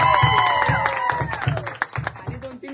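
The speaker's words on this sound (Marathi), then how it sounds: "त्यासाठी पण टाळ्या." A small group claps at a cultural gathering, scattered uneven clapping heard close by, mixed with voices and a high tonal sound that slides downward, fading out unevenly by the end.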